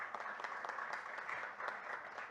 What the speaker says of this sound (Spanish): un fuerte aplauso a nuestro primer expositor